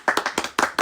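Hand clapping, close and loud: a quick series of about six sharp claps in an uneven rhythm, with no talking.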